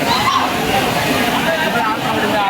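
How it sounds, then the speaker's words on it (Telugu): Rushing water at Arai waterfalls roars loud and steady as a dense wash close by, with a crowd of people talking over it. "this is the real location of the RA water falls"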